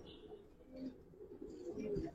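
Pigeons of an old Giribaz breed coo softly in a loft, low murmuring calls repeating under faint background chatter and a few higher chirps.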